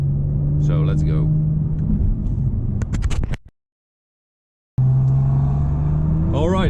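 Audi RS5 R MTM cruising on the Autobahn at night, a loud steady engine drone with a few sharp pops, then a sudden cut to silence before the drone returns, with someone talking over it.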